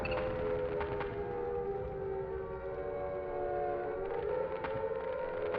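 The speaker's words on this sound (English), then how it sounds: "And we get sirens again." Wailing sirens inside the horror video game Silent Hill, long sustained rising and falling tones under a continuous droning, eerie soundtrack, steady and loud throughout with no talking.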